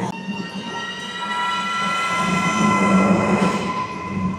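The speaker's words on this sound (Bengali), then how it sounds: "4 নম্বর প্ল্যাটফর্মে ট্রেনটা আসবে।" Bernina Express train pulling in at platform 4 in Switzerland, a loud, steady rumble of wheels on rails with sustained high squealing tones from brakes or wheels across the whole stretch.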